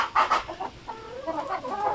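Laying hens confined in their pen cluck in short, close bursts, several calls overlapping over a couple of seconds with no talk.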